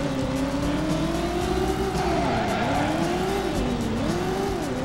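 In the video game Driver, a car engine revs hard and steadily, its pitch rising and dipping as the car speeds along, with some tire noise during a braking test, loud and continuous.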